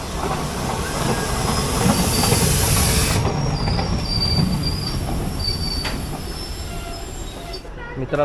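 A DEMU passenger train from Amritsar to Qadian rumbles steadily in, with its wheels squealing in high, drawn-out tones along the rails. Throughout, the clatter is loud and close.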